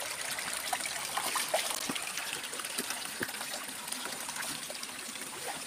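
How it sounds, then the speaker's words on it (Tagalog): Water of a mountain creek trickles and splashes as it is crossed, a steady close babble with scattered small splashes and no talking. "Natawid ako ngayon ng sapa mga guys."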